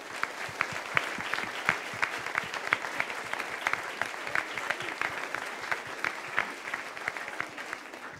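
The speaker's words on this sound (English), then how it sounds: "give them a warm round of applause" Steady applause from an audience at a conference closing ceremony, many hands clapping densely and evenly for the whole stretch at moderate volume, with no speech over it.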